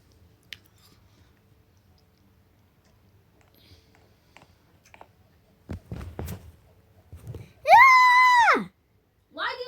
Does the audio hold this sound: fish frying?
no